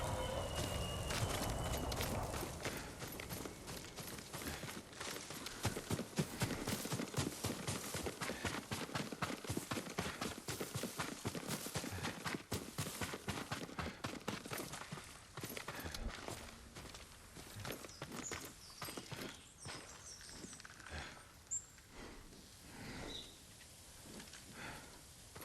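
Horse hooves clip-clop steadily through the Ghost of Tsushima video game, a rhythmic run of close, moderately loud footfalls that thins out toward the end amid other game sounds.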